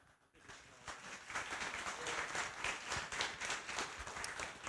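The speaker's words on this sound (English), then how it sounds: "So a round of applause for them." An audience at a rock and roll hall of fame panel discussion in a history museum breaks into applause, a dense wash of clapping that swells after a brief quiet start and holds steady.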